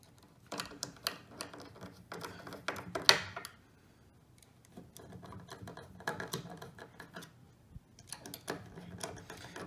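Screws being threaded by hand into a prong T-nut while assembling an inflatable raft accessory pack: soft scraping, ticking and light metallic clicks in uneven bursts, close by and fairly quiet.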